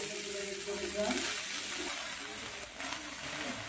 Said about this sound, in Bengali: এবারে ওই কড়াইয়ের মধ্যে আমি বাঁধাকপিগুলো দিয়ে দেব।